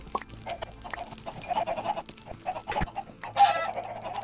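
Chickens in the Minecraft video game cluck in short, scattered bursts amid layered game noise, fairly close and moderately loud with no talking.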